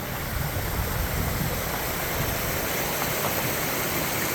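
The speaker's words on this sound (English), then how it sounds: "Let's take a look upstream before continuing to see these cascades." A stream cascades steadily near an old railroad bridge at the Summit Siding ruins, a dense, continuous rushing roar of falling water heard close and without pause.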